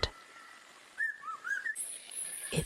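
A bird of paradise sings in the forest, giving whistled, sliding notes in a mimicking run of varied calls over a steady background hiss. Higher chirps enter toward the end.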